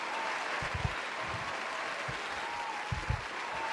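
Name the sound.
crowd cheering and applauding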